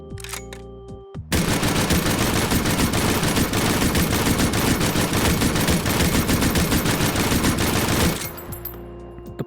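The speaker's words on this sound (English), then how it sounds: "On to the Lewis gun, everybody." Sustained automatic fire from a Lewis gun in the VR shooter H3VR, a dense rapid burst lasting about seven seconds, loud and close, with brief mechanical handling sounds before and after.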